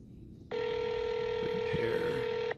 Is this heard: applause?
no